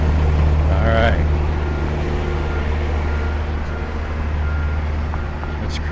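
Heavy trucks rumble past on a busy street, a loud low drone of engines and tires with a brief higher whine early on, steady traffic noise throughout.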